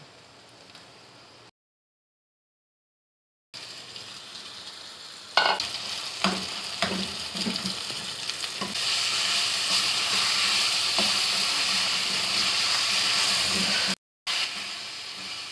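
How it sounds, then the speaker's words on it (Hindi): Beef mince is fried with ginger and garlic in a karahi, sizzling and hissing loudly with stirring clatters. A brief silent gap comes early, then the frying returns and grows steadier and more intense. "कीमे को आपने अच्छी तरह फ्राई करना है अदरक लहसुन में"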